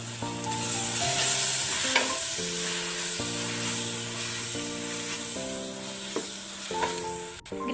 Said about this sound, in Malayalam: ഇതിലേക്ക് നമുക്ക് അരിഞ്ഞു വെച്ചിരിക്കുന്ന തക്കാളി ചേർത്ത് കൊടുക്കാം.